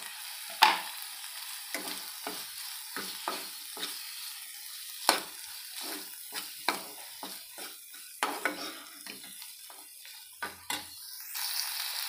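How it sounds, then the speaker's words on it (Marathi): Turmeric and mutton masala roasting in a pan for a rustic Maharashtrian kharda mutton: a soft continuous sizzle broken by repeated sharp scraping and stirring strokes of a spoon against the pan, close and fairly quiet. "पाहू शकता तुम्ही आपला मसाला छान भाजलेला आहे"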